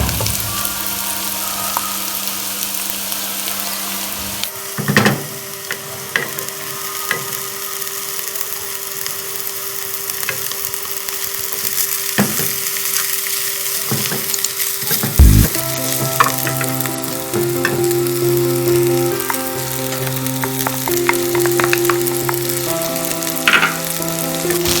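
Boiled rice being stir-fried with already-fried vegetables for restaurant-style chicken fried rice, a steady close sizzle with scraping spatula strokes and a louder burst as the rice lands in the pan, no talking.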